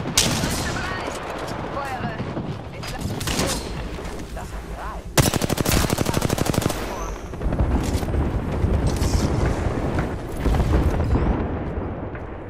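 Rapid automatic gunfire in the shooter game Apex Legends, loud sustained bursts with a long hammering stretch midway and further volleys after, while a player talks over the shooting.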